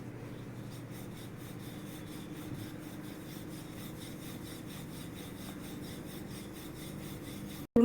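A rolling pin rolls out kanole dough in a close, even rubbing rasp that keeps up a quick steady rhythm of back-and-forth strokes, quiet and unbroken, ending in a brief knock.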